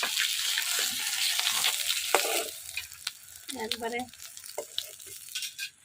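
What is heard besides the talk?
catla fish frying in oil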